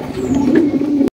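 Blue-shirtin fancy pigeons at a market stall give a steady, low, throaty cooing that runs continuously for about a second, fairly close and loud, before stopping abruptly.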